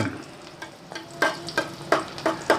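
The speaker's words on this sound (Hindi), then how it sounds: "इसको ऐसे ही चम्मच चलाते जाएंगे। प्याज हल्का हल्का रंग चेंज करने लग गया है।" Onions sizzle gently in a frying pan as a spoon stirs them in regular scraping strokes, about six close, distinct sweeps, with no talking.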